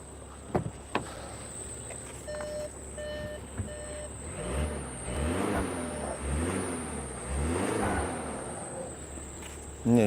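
A thin, steady high-pitched whistle from high alternator charging current runs continuously over a low idling 2020 VW Passat 2.0 diesel engine that revs up a few times, with scattered faint clicks.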